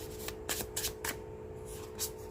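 Tarot cards being shuffled and drawn, a few soft, quick riffling and flicking bursts close by against a faint background hum.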